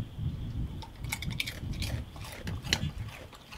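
Crunchy chewing of a chip up close, with sharp irregular crackles and crunches over a low rumble, no talking.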